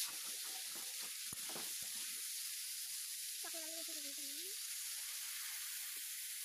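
Faint steady sizzle of potatoes frying in a pan for a Bengali tomato-potato dish, with a few soft scraping knocks of a spatula stirring early on and a brief tonal squeak midway, all quiet and close.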